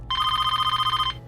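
An old-style telephone bell rings in one continuous trilling burst of about a second, loud and close over a low background hum, with no talk.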